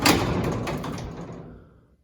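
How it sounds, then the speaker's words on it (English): A classic truck door is pushed shut with a solid thud, and a low metallic rattle fades out over about two seconds. "And watch what happens when I push the door closed."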